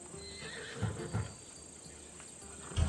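A Macedonian horse in Assassin's Creed Odyssey gives short snorting whinnies, with a couple of bursts near the start and another at the end over a quiet ambient background, close and fairly soft.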